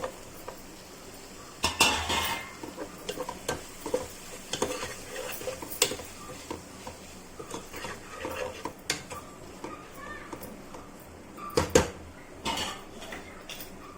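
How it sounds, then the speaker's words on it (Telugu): Chopped tomato pieces dropped into a pan of prawn curry with fried ginger and onion, bringing clattering utensil knocks and stirring scrapes over a low sizzle, with louder clanks near the start and toward the end. "కట్ చేసుకున్న టమాటా ముక్కలు వేసుకోవాలి"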